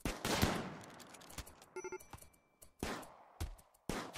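Gunfire from colonists in the RimWorld video game: several sharp broadband shots in bursts, a loud cluster early on and separate cracks later, with a brief tonal game chime in between.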